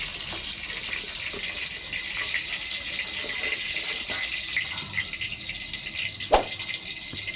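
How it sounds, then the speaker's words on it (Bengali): Water poured into cholar dal with chopped pumpkin greens and potato, a steady faint gush and trickle with a small clunk near the end. "এবার এর মধ্যে দিয়ে দেবো জল।"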